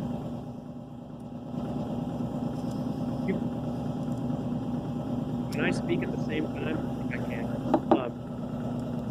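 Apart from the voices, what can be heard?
freeze dryer pump running in background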